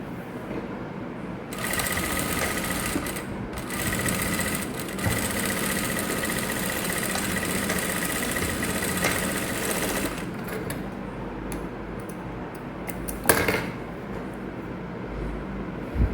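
A sewing machine runs a 3/4 inch seam through fabric, a steady mechanical whir for several seconds that pauses, then returns in short bursts.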